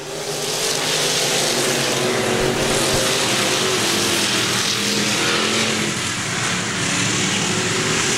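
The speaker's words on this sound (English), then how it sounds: "It's Wood, it's Carter, side-by-side action as they come into turn 4." Race cars, B-Mods and late models on a dirt oval, roaring into turn 4 side by side, a loud sustained engine drone that swells and dips steadily with no talking over it.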